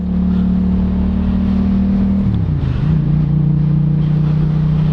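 A 2021 Yamaha MT-07 with a full Arrow exhaust system hums with a loud, steady engine drone up close. Its pitch dips midway as the revs drop, then settles back into an even note.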